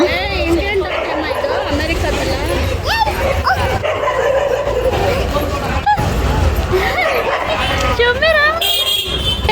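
A street dog at a village fair in Jaraganahalli barks and yips repeatedly and close by, heard over a busy crowd hubbub and people chattering nearby.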